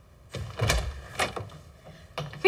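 An apartment door opens with a few clunks and a latch rattle spread over about two seconds, close by and fairly quiet, ending with a sharp click.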